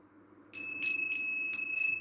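Small hand bells used in a chakra reading ring in a quiet room, several light, high, pure strikes spaced unevenly across two seconds, each left to shimmer and sustain, close and clear.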